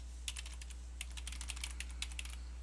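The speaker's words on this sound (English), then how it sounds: "You do that by clicking on the last person, hitting a comma, and then typing in the email address." Someone types an email address on a computer keyboard: quick, irregular, faint key clicks over a low, constant electrical hum.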